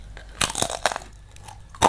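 Crisp bites and chewing of crispy fried salted fish, a few sharp crunches in quick succession close to the mouth, followed by quieter chewing and one final loud crunch.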